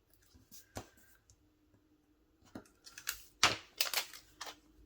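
Backing is peeled off Cricut craft vinyl up close, giving sparse crackling ticks and then a denser burst of sharp crackles and clicks near the end.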